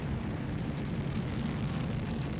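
Tornado fighter jet in Microsoft Flight Simulator, its engine a steady, loud, low rumbling roar with a broad rushing hiss, continuous throughout with no voices.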